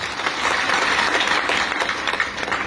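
Audience applause at a community rally, sustained loud clapping from a large crowd filling the whole moment without pause.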